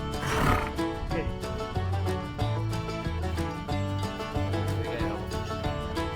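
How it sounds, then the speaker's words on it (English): A horse neighs and whinnies on a horseback riding outing in Sedona, a clear, near call with hoof clip-clops in the background. "I think it's a horse."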